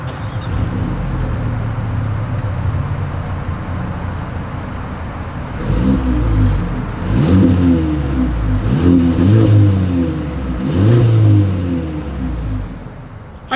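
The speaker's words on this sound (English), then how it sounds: "here is that exhaust clip" A 2023 Mercedes-Benz GLB 250 with dual exhaust idles with a steady low rumble, then revs up several times in rising, swelling surges before settling back, loud and close.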